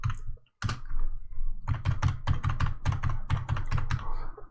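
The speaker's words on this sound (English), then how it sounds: "I'm going to type in the password" Password being typed on a computer keyboard: a quick, steady run of about a dozen close, crisp keystrokes after a brief lone press and a short pause, with a low hum underneath and no voices.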